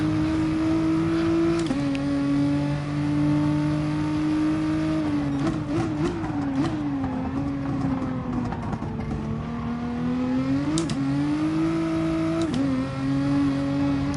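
A race car engine in an online racing game revs hard in second gear on worn tyres, its steady high drone climbing and dropping as the wheels spin, with sharp pitch jumps at each gear change over fourteen seconds.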